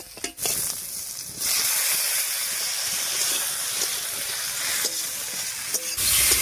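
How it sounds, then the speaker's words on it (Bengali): Chopped tomatoes hit a hot pan where an egg has been frying, setting off a loud, continuous sizzle with soft stirring scrapes near the start and end. "এবারে কেটে রাখা টমেটো দিয়ে দিচ্ছি।"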